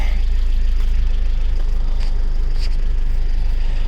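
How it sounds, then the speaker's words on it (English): A 1997 Honda CR-V with a worn front-left half shaft bearing, running with the emergency brake off, gives a steady low engine drone with a faint whirring hum above it, constant and close. "I'm going to be replacing a half shaft bearing on a 1997 Honda CRV. I want to let you guys hear what it sounds like."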